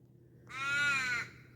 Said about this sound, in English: Oh, birds, mate, birds.